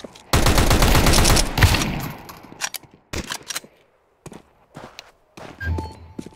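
A loud rapid burst of automatic gunfire in Counter-Strike 2 on the Mirage map, followed by scattered single shots, clicks and footsteps at lower volume.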